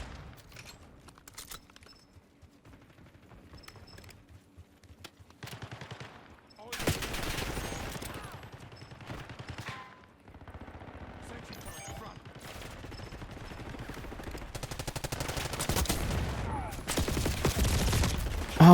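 Automated sentry gun in a Call of Duty battle royale match firing repeated bursts, growing louder and denser in the second half amid other game noise and explosions.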